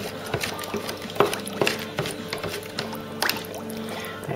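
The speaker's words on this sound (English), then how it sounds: "I'm giving that a stir now" Chemicals being stirred in a container during a Ford Cortina MK3 GXL restoration: irregular liquid sloshing, scraping and light knocks against the sides, close and uneven.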